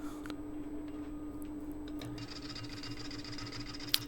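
An 18 inch oak platter spins on a wood lathe at 400 RPM, giving a steady, continuous hum with a faint rhythmic ticking and a single sharp click near the end.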